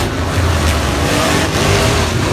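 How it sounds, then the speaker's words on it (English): Monster Jam monster trucks roaring around the track at Raymond James Stadium in Tampa, a loud continuous engine drone filling the arena without a break. "14 amazing Monster Jam trucks are hitting the track here in Raymond James Stadium"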